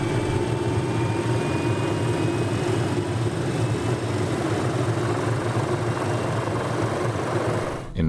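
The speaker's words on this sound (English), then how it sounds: "Finally, you hear a distant propeller airplane flying. That's your rotor achieving idle speed." An MD500 helicopter's rotor spins up to idle speed, making a loud, steady droning whine with a busy mechanical rattle that holds evenly throughout, with no talking.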